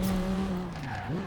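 A drift car's engine drones steadily in the video game Forza Horizon 4 with a sustained tire squeal, the pitch sliding downward and then rising near the end.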